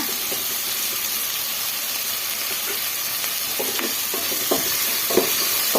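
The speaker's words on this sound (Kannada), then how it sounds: "ಈರುಳ್ಳಿ ಮತ್ತು ಟೊಮೆಟೊ ಸ್ವಲ್ಪ ಚೆನ್ನಾಗಿ ಬೇಗ ಬೇಯಿಸ್ಕೊಬೋದು ಅರಿಶಿನ ಸೇರಿಸ್ಕೊಳ್ಳೋಣ" Onions and tomatoes frying with turmeric in a pan, a steady close sizzle and hiss with occasional scraping stirs and small pops.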